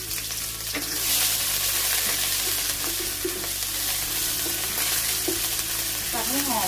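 Seasoning paste stir-frying in oil in a pan for sweet chicken, a steady loud sizzle with scraping of the spatula, no talking.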